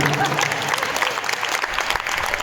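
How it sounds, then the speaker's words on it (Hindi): Listeners at a religious discourse clap together, a dense, even applause from a crowd that stays steady throughout, fairly loud and close, with a voice faintly underneath. "ताली तो बजाई"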